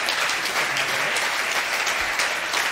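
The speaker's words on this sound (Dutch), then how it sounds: "Mag ik nog eenmaal een groot applaus voor de 6" Large audience applauding at an Amsterdam sports debate with party list leaders, a steady dense wash of clapping filling the whole stretch at close, loud level.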